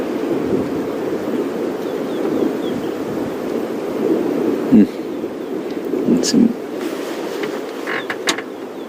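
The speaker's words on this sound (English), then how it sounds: "the trees just behind those zebras are really starting to move now as this wind starts to pick up" Wind picking up in the African bush near grazing zebras, a steady low rushing buffet against the microphone with a few faint creaks and knocks, no talk over it.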